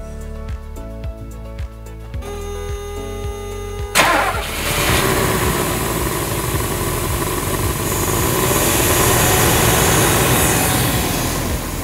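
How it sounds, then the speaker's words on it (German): A few seconds of quiet tones and clicks, then the engine of a Mercedes R107 450SL cranks and catches, settling into a steady loud idle that rumbles on. "Und mal mit Motor starten."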